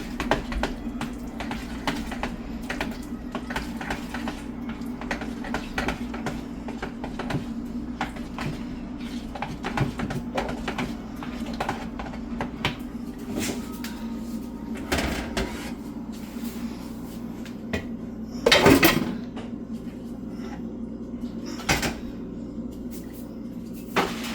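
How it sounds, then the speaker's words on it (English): A lasagna cheese mixture is stirred in a bowl, a run of repeated scraping and tapping strokes with a steady low hum underneath and one louder clatter near the end. "So I'm just going to give this a good little mixture."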